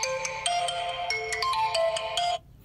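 Ringtone from an Oppo A71 phone speaker: a bright, bouncy melodic chime of quick repeated notes, moderately loud and close, ending abruptly after a couple of seconds.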